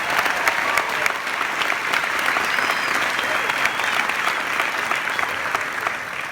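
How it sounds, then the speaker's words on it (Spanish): A large audience at an event in Madison Square Garden, New York, applauds steadily and loudly, dense clapping filling the whole stretch without pause. "Give her a round of applause."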